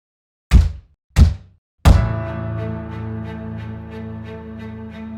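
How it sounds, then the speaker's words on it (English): Three sharp booming knocks on a door, the first two separated by short pauses, the last one ringing out into a sustained resonant tone that slowly fades. "They knocked 3 times."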